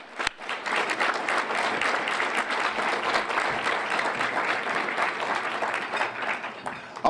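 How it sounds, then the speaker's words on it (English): Warm applause from the crowd at an evening mentor recruitment rally in Brockton, sustained and fairly loud for several seconds, with a faint voice under it. "And I want to applaud you on tonight."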